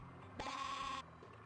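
Sheep bleating in the Spy Fox 2 video game, a single loud, wavering bleat of about half a second that stops abruptly against a quiet background.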